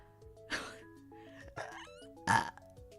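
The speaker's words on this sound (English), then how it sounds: "Whoa, that was a weird burp." A single loud, throaty burp with a gurgling, voiced quality, set against soft background music with a couple of other short bursts.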